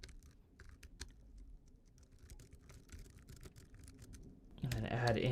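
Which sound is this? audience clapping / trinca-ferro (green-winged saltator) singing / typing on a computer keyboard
typing on a computer keyboard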